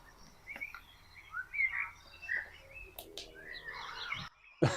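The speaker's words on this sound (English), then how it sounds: "there's sounds of like the wild birds, rain" Birds chirp and trill steadily against a soft natural background, with a couple of brief clicks and a louder rustle at the end.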